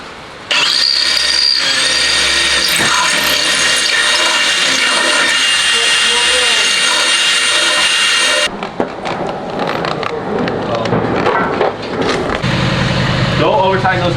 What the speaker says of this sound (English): Might have to drill both sides, honestly.